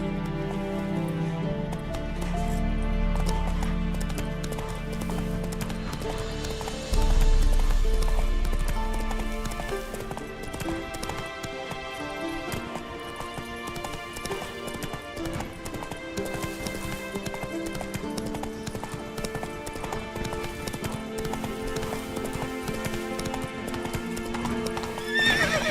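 Roach, Geralt's horse in The Witcher 3, gallops with rapid, continuous clip-clop hoofbeats over game music, including a neigh, heard close and loud for the whole stretch.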